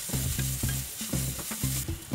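Garlic and shiitake mushrooms stir-fried in a hot pan, with a steady sizzle broken by regular scraping strokes of a spatula, close and continuous, with no voices.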